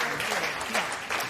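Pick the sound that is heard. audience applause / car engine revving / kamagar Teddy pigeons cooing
audience applause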